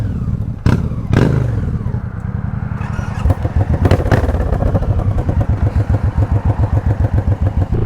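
Loud, close Suzuki M109R motorcycle engine pulling hard under acceleration, a deep pulsing throb that rises in pitch with a couple of sharp thumps and a clattering exhaust rhythm, heard without speech.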